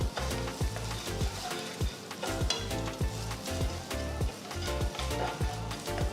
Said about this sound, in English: Add about 1 tablespoon of finely chopped garlic, 1 tablespoon of finely chopped ginger. Next add 2 green chilies chopped.